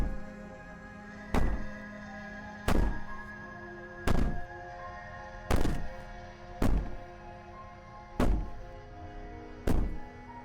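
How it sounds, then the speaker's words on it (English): Heavy, hollow banging thuds in the game Slay the Princess, eight evenly spaced knocks about 1.4 seconds apart over a steady droning ambient background, with no talking. "Maybe the banging and wailing will stop if you just don't pay attention to it."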